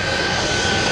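Shockwave jet truck roaring at the 2010 NAS Oceana Airshow: a loud, steady jet engine blast with a high whistling tone running straight through one continuous second, close and alone.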